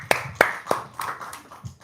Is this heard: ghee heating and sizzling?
no